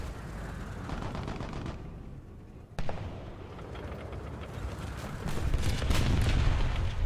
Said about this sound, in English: Where is he shooting you from, sir?